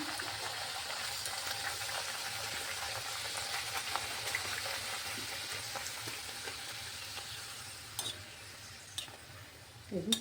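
Steady crackling sizzle of luchi dough frying in hot oil, fairly close and continuous, with a few sharper pops and clinks toward the end.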